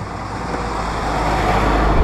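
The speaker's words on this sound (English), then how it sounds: "Traffic is getting a little busier." Steady road traffic rumbles nearby, a continuous low roar of passing vehicles that swells slightly louder toward the end, without speech.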